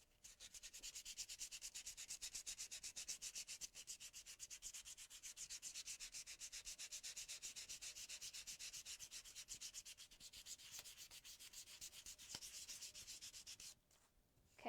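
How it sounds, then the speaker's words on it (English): Hand sanding of a dried Mod Podge decoupage layer as a final smoothing pass: a steady, fast back-and-forth scratchy rubbing that goes on nearly continuously, close and fairly quiet. "You want to make sure that all the grooves are out, because this is your final sanding."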